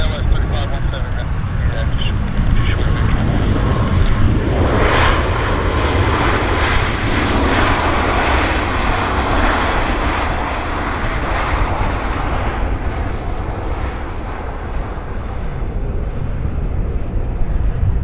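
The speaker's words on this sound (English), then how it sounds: "And this aircraft's arriving from Kelowna." Passenger jet arriving at Vancouver Airport, a loud continuous engine roar that swells and holds steady throughout, with broadband rumble and wind noise.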